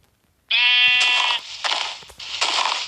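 A video-game sheep bleats loudly and close by, one long quavering bleat followed by two shorter rough ones in quick succession, with no talking.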